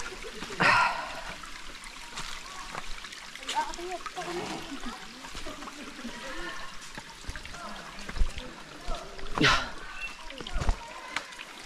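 A river flows steadily along the trail to a cave, a broad rushing wash with a few louder splashes near the start and again near the end, and occasional voices in the background.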